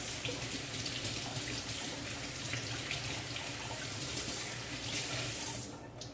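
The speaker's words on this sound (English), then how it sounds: "You want to make sure you rinse off back your knife so there's no black on it." Tap water runs steadily into a sink while a kitchen knife is rinsed clean of black char after cutting roast breadfruit, a constant close splashing rush that tapers off near the end.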